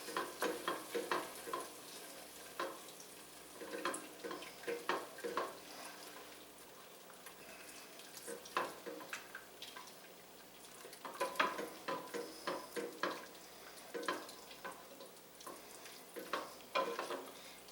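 A spoon stirs a bacon roux in a pan for mac and cheese, making a steady low sizzle broken by irregular scraping and clinking strokes, close and moderately quiet, with no talking.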